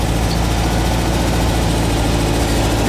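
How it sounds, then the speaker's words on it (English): A VW bus engine idles steadily and loudly up close, a continuous low mechanical rumble with an even pulsing throb and no pauses. "if you let it idle down, you'll hear it start loping on one cylinder"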